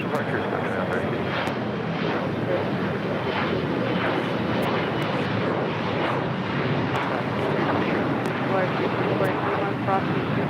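A Piper aircraft takes off from runway 25 left at LAX, its steady engine roar continuous and broadband throughout, with a voice talking over the noise.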